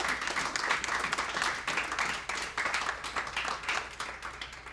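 Steady clapping from a crowd at a county Democratic Party election night program, dense and fairly close, with no talking over it.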